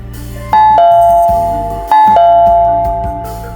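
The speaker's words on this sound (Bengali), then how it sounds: "আবার কলিং বেল বাঁচতেই ভাবনায় ছেদ পড়ল আবরারের" A two-tone ding-dong doorbell chimes twice in quick succession, each bright strike ringing out and decaying slowly, loud and close with no voices, used as a sound effect in a Bengali horror audio story.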